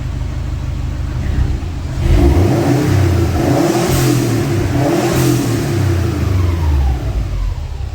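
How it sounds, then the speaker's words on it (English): Subaru WRX STi with an aftermarket blow-off valve, running warm after a long idle, gives a steady near engine rumble that swells into a louder rev around the middle before settling back, heard alone. "All right, car is warming up here. It's been running for a while. Let's see what it sounds like."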